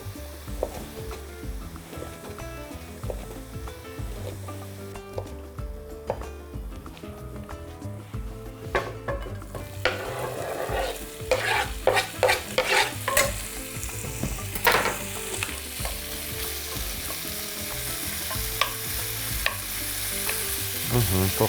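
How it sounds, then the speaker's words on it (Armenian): Strips of ham frying in oil and stirred in a pan, a continuous close sizzle with intermittent utensil scrapes and taps, growing louder and busier partway through. "10 շերտ խոզապուխտ կտրատում ենք ձողիկների և տապակում"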